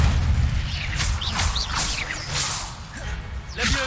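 Spell effects from Hogwarts Legacy: repeated whooshing, whipping bursts and booming impacts in quick succession over a steady low rumble, loud throughout, with no speech.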